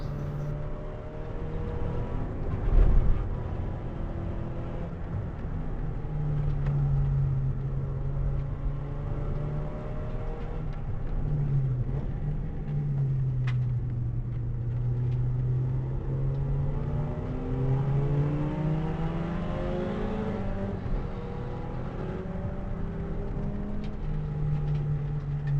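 A 140hp Nissan Sentra's engine drones and revs through the gears on the track at Taupo, a steady in-car tone rising and falling with each shift, loud and continuous with no talk.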